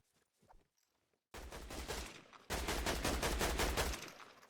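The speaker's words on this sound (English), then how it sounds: "Here I land and get a few shots off." Rapid gunfire in a video game, fast bursts of shots starting after a quiet moment with soft footsteps, then a second, longer burst that runs loud and continuous to the end.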